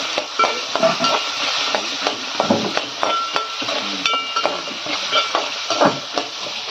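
A batch of homemade onion pakodi fries in oil with a steady hiss and sizzle. Repeated metallic clinks and scrapes from a spoon against the pan sound close by, with no talk.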